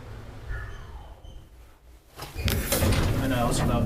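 Doors of an old I.G.V. traction elevator in an apartment building in Oulunkylä, Helsinki, sliding with a rumble, faint at first and then becoming a louder, close clattering rush of motion in the final seconds.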